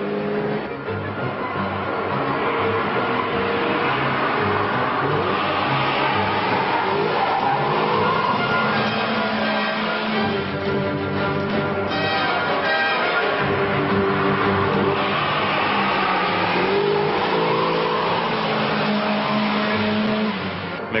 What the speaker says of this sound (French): La M3 rigole pour suivre une 16 soupapes à l'agonie.